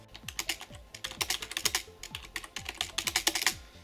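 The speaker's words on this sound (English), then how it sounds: "I have a generic Logitech K120 keyboard." Keystrokes on a Logitech K120 computer keyboard, a steady run of crisp, close clicks at a moderate typing pace, with no voices.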